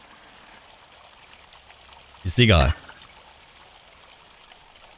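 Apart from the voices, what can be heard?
water pouring into a bowl in the video game Mundaun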